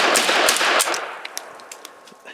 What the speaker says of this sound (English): let's look at a few shots